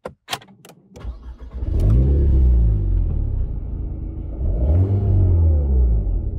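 An Alpine A110 Edition GT sports car fires up with a sharp starter burst, then settles into a loud, close idle with two rising revs of the engine, no talking.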